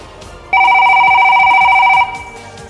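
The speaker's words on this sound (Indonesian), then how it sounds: "Ada telepon lagi, siapa ya?" A telephone rings with one loud, steady electronic trill lasting about a second and a half, close and clear against a quiet background.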